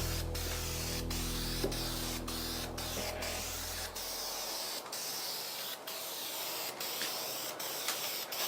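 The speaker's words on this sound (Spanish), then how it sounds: "Ahora sí vamos a aplicar el transparente" A spray gun lays clear coat onto a BMW body panel, producing a steady loud hiss that runs continuously, briefly interrupted by short gaps between passes, alone without talk.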